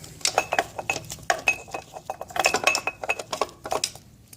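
Small metal parts clink and rattle in quick, irregular bursts as a carburetor is pulled from a 1975 or 1977 Johnson Evinrude 4 HP outboard motor, with close, sharp taps and jingles.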